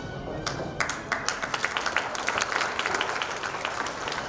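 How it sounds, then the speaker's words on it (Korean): Audience clapping at a chairman's inauguration ceremony in a hall: scattered claps that swell into steady, moderately loud applause with distinct individual hand claps throughout. "더 힘찬 박수 부탁드립니다."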